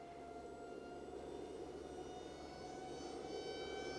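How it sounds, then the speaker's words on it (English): An RC Su-27 model plane with a Turnigy 2200 kV electric motor and three-blade propellers making a low pass, a steady whining buzz with rising tones that swells slightly as it nears, faint and distant. "One more low pass for good measure."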